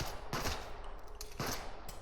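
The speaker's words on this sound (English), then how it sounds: "I don't know if shooting them while they're down does anything." Gunfire in a co-op horror shooter, heard as a few loud, close, sharp shots in quick bursts with short gaps between them.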